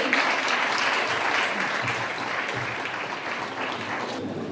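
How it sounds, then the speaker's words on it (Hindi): Sustained applause from the audience at a Christian women's empowerment workshop, a dense, even patter of many hands that continues without a break. "जोरदार तालियों के साथ धन्यवादित करेंगे"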